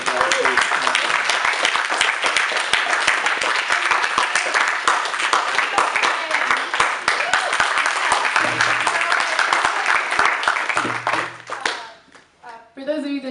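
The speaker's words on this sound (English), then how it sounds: "let's give a huge round of applause." Sustained audience applause after a music industry and academia panel discussion, dense steady clapping from a full room that fades out near the end, with some voices mixed in.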